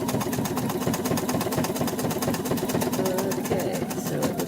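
A sewing machine runs steadily while stitching an appliqué angel, a continuous mechanical whir with rapid needle rhythm throughout, fairly close and alone with no talk.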